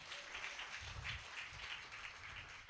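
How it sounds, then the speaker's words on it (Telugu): A church congregation clapping together during a sermon in Hyderabad, a steady, dense patter of many hands with a loose rhythmic pulse, continuous throughout. "చప్పట్లు కొట్టు"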